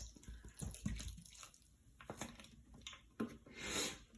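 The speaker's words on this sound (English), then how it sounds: "Add an entire another water bottle." Water from a bottle is poured onto a pouch of instant snow powder, giving faint, close trickling and splashing with uneven bursts and a brief louder gush near the end.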